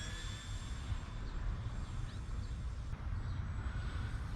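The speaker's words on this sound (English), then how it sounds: "A little slow flyby for the camera here." A HobbyKing P-51D Mustang RC model plane makes a slow pass, giving a steady, thin electric whine over a constant wash of wind and air noise that stays at an even level, with no voices.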